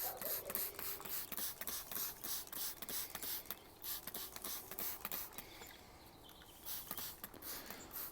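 A spray bottle mists Epsom salt solution onto potted pepper plants in a run of quick, irregular hissing bursts with faint mechanical trigger clicks, close by and fairly quiet, with no voices.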